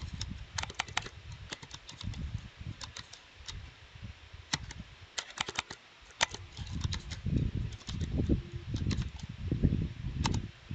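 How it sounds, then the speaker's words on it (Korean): Fast, light clicking of fingers typing on a computer keyboard, a steady patter of close keystrokes with occasional firmer presses, such as the enter key, over faint room noise. "이렇게 타이핑을 하고 제가 엔터를 치겠습니다"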